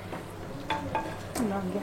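Pressure-cooked chicken is stirred in a clay pot, a few soft scraping strokes with a light sizzle running underneath, close and fairly quiet.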